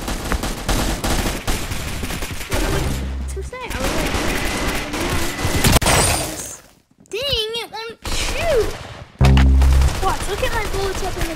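Rapid gunfire from a minigun in a video game, loud bursts of automatic fire broken by short gaps, with game sounds and voices mixed throughout.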